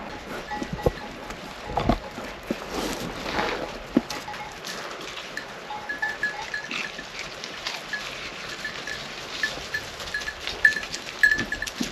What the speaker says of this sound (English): absolutely no idea why the goats come here. There's nothing for them to eat.